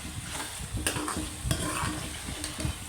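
Chicken qeema fries in a pan while a spoon stirs and scrapes through it, giving steady close sizzling broken by irregular clinks and scrapes.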